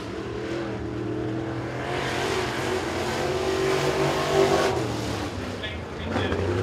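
Crate late model race cars run qualifying at Crossville Speedway, a steady engine roar rising and falling as a car laps the track, with an announcer's voice heard over it.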